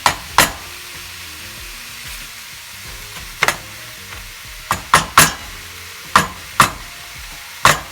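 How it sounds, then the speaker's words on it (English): Raw taco meat sizzles softly in a pan as it starts to cook, broken up by a series of sharp scraping stirs and taps from a utensil, close by and with no talking. "Now I just gotta let it start cooking."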